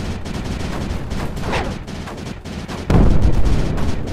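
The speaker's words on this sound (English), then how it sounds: "that's all the explosions" Rapid bursts of explosions and gunfire-like blasts in the video game Space Crew crackle continuously, with a louder, heavier blast hitting near the end.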